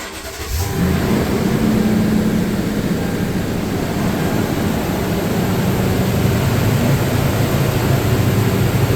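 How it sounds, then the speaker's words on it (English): A truck engine starts and then idles steadily while warming up before a transmission service, a close, continuous low rumble with a constant hum and no revving. "And now we need to warm up the truck and get the transmission to temperature."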